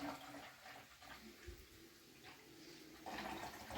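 Warm meat grease from five pounds of cooked taco-soup meat pours into a discard container with a soft, continuous liquid trickle and splatter, faint and close, with a few small clunks along the way.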